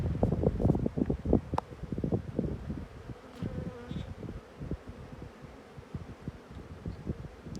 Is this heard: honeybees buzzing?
yes